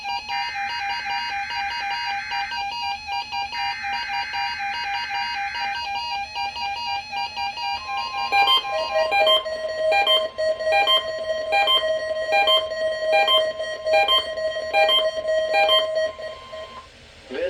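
A NOAA weather radio warning alert tone plays during a required weekly test on station WXM49. It opens with two alternating loud electronic tones, then gives way to a fast repeating sequence of sharp beeps that runs to the end.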